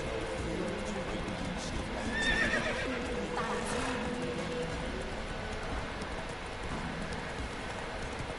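Roach the horse in The Witcher 3 whinnies amid clip-clopping hooves, a brief neigh standing out over continuous trotting, with a voice talking over it.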